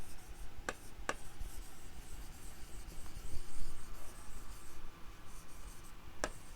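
Pen on paper as a chemical equation for hydrogen reacting with oxygen to form water is written out, a soft continuous scratching with a few sharp taps, close and steady over a noisy room background.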